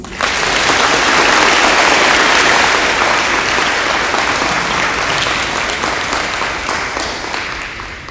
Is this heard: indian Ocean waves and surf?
no